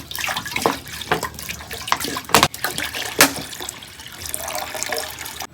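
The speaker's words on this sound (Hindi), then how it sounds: "तो अभी इस कढ़ाई में डाल लेते हैं जी पहले पानी।" About 1.5 liters of water is poured into a kadai sitting on a wood-fired stove, a continuous close splashing and gurgling stream with a few sharper splashes.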